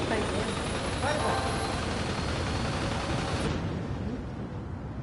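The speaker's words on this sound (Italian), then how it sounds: "E c'è il motore di un aereo." Airplane engine roaring in Gran Turismo 7, a loud steady broadband drone that runs throughout, then its upper hiss cuts away abruptly near the end while the low rumble carries on.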